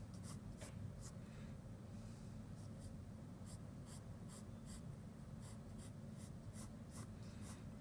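Pencil or pen strokes scratch steadily across paper while lines are drawn for a grid drawing, forming a soft continuous scratching with brief bright tapping accents throughout, close and alone.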